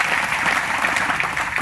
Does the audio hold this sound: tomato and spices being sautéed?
no